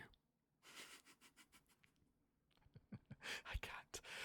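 A voice imitates wheezing very close to the microphone, with breathy, raspy sniffing and airy gasps in uneven bursts, quiet at first then louder.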